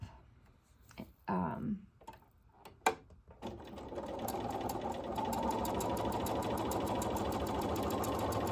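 A sewing machine pieces quilt four-patch blocks, a few short bursts at first, then a steady, close, continuous mechanical whir with rapid ticking stitches that runs to the end.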